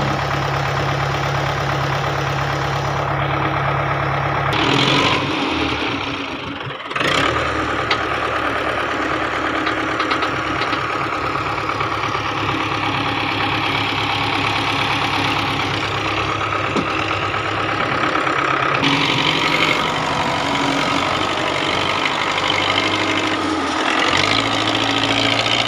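A tractor engine idling while stuck in soft muddy soil, a steady loud mid-pitched rumble with a knocking pulse, a brief dip near the middle, no talking.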